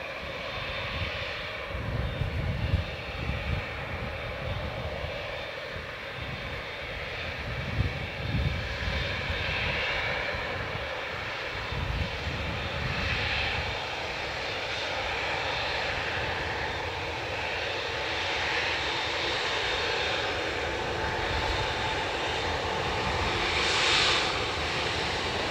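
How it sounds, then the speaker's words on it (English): A Piper Cherokee's piston engine drones as it crosses the approach path near Dublin Airport. The hum is steady and moderately loud, fluctuates slightly, and continues for the full stretch with no talk over it. "Piper Cherokee just crossing the approach path there"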